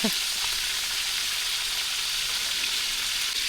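Hot oil spatters and sizzles loudly in a pan of frying freshly caught fish, a dense, unbroken crackling hiss heard up close that holds steady for a few seconds.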